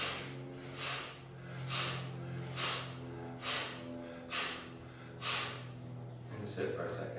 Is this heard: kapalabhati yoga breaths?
yes